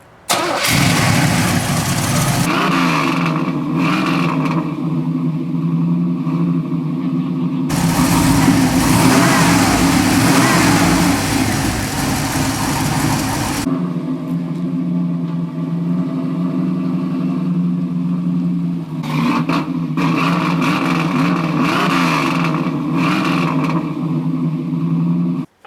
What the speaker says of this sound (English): the Camaro started with the new carb